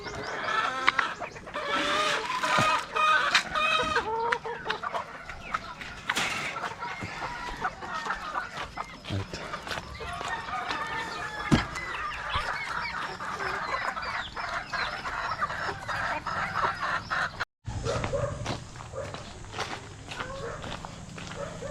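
Chickens clucking around a small farm after feeding, scattered clucks and rustling footsteps nearby, with someone talking now and then throughout.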